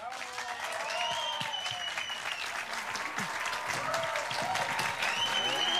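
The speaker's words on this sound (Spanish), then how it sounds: "un gran aplauso a Roberto Cano." A studio audience at a television interview applauds steadily, the clapping swelling after the first second and holding at a moderate, even level while faint voices call out over it.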